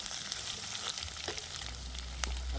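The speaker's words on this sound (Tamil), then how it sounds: "நான் இப்போ முருங்கைக்காயும் சேர்த்து பிரட்ட போடுறேன்" Drumstick pieces sizzle steadily in hot oil in a village kitchen while being stirred, with soft scraping strokes under a constant frying hiss, close and alone.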